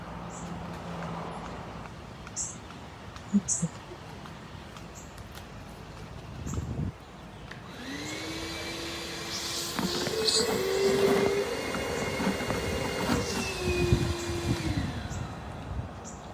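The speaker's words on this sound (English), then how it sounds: "You're going to vacuum on the other end." A vacuum cleaner sucks a string through a pipe: ambient noise and a few knocks give way to a loud, sustained whining drone with shifting tones that runs for several seconds, then drops away.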